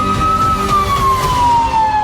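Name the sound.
emergency vehicle sirens wailing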